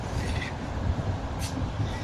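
A steady rumble from inside a moving passenger train in Poland, with a continuous low roar and brief hissing bursts, heard up close with no speech.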